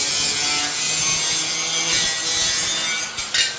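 An angle grinder cuts through rusted car body metal on a 1982 Ford Fairmont, a loud, steady, harsh rasping screech held close up for a few seconds before it briefly falters at the end.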